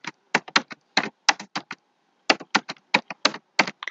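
Keys clack on a computer keyboard in short bursts of quick taps separated by brief pauses, crisp and close in an otherwise quiet room.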